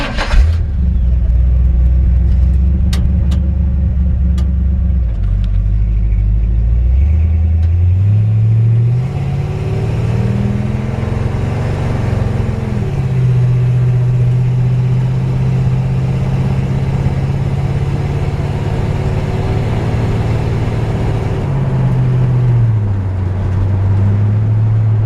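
A 1954 Chevrolet 5-window pickup with a 454 big-block V8 pulls away and drives, its deep rumbling exhaust rising and falling through gear changes, loud and close throughout with no talking.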